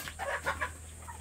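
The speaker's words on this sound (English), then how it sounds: "How many are still alive, the chicks?" Chickens cluck softly in a short, quiet burst of three or four clucks on an off-grid island farm, with a faint low background hum.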